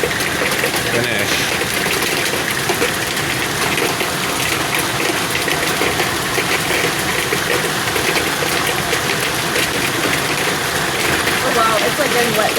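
A hailstorm in Cardston, Alberta, Canada, with hail and rain pouring down in a dense, continuous hiss and patter, loud and steady throughout with no talk.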